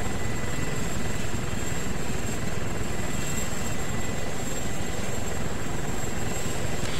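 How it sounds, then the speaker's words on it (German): Helicopter in the PC game DayZ Epoch, a steady whirring rotor and engine drone holding close and loud throughout without pause or voices. "Ach, das ist wieder der Hubschrauber da unten, ne?"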